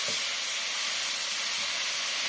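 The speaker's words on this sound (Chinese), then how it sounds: "炒香之后把我们泡好的花椒和辣椒片放进来，再给它炒一下，继续煸炒，炒出香味。" Chili bean paste stir-fried in hot oil with soaked Sichuan peppercorns and chili flakes, a constant hissing sizzle close up, with a faint stir or two early on and no talking.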